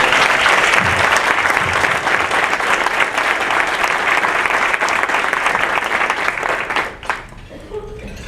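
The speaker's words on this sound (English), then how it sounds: "Y'all need to give him a clap." Chamber of Commerce meeting attendees give a speaker a round of applause, loud sustained clapping from a roomful of people that fades out abruptly near the end, leaving a quieter room.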